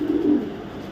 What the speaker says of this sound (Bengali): একটা নর কবুতর দেখেন,